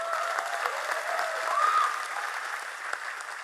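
An audience at an Islamic religious lecture applauds the drivers of the kiai, with steady, moderately distant clapping that swells briefly midway before holding level.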